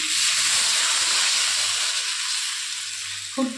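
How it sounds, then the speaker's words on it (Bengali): Water poured into hot masala for a green banana and magur fish curry, a loud continuous hiss of steam and sizzle that gradually eases, ending with a short clatter. "এবার জল দিয়ে দেবো"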